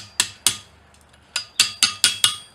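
Seven sharp, ringing hammer blows strike a cold rivet on railroad-spike blacksmith tongs, spaced unevenly with a pause in the middle, each hit close and bright with a short decay.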